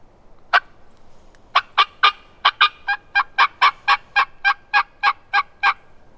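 A turkey call imitates an aggressive hen. A single yelp is followed by a rapid, excited run of about fifteen sharp, loud cutting notes in quick rhythm, with no talking.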